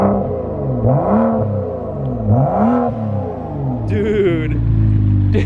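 BMW F30 335i with a muffler-delete exhaust revving up and down in repeated swells, loud and close, with a sharper higher whine near the end; people talk over it.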